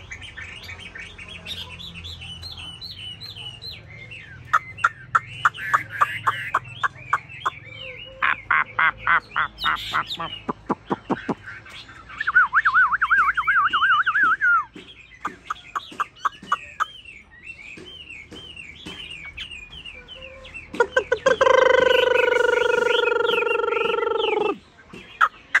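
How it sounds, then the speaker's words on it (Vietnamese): A recorded Chinese hwamei song played back to stir caged birds: a loud, varied run of whistled phrases, rapid chirps and trills, ending in a long, harmonically rich call. "Em lại kích thử bằng file họa mi thôi nhé."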